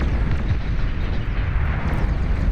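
A big explosion in the real-time strategy game Beyond All Reason during an 8v8 deathmatch, a dense, continuous low rumbling blast that stays loud throughout with no pauses.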